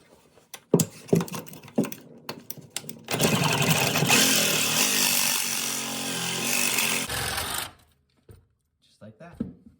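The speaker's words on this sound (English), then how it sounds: "So I'm gonna use my Sawzall here with the metal blade on it" A Sawzall fitted with a metal-cutting blade grinds through a corroded toilet bolt in one loud, steady burst lasting about four seconds. Scattered clanks and handling noises come before it, then it stops abruptly and brief quiet sounds follow.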